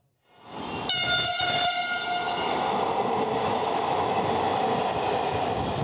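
An electric metro rail train in Dhaka sounds its whistle in two short, bright, tonal blasts, while the heavy rolling rumble of the train builds and carries on steadily and loudly.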